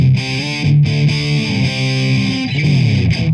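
An electric guitar played through a TC Electronic Dark Matter distortion pedal with the treble boosted gives sustained, bright, heavily distorted chords that shift in pitch, loud and up close, with no voices.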